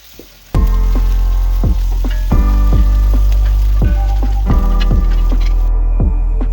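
Garlic-ginger paste fries loudly in a pan, a steady dense sizzle with a low hum underneath and occasional utensil knocks against the metal.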